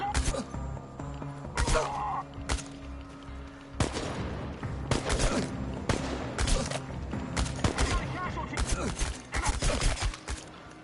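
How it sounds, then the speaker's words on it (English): Rapid bursts of gunfire in the video game Chernobylite crackle and boom repeatedly, dense volleys of shots overlapping one another at loud, close range. "Lots of gunfire."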